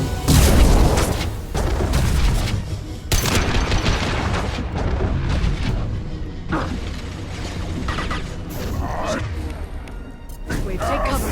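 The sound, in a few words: gunfire and explosions in the Mass Effect 2 video game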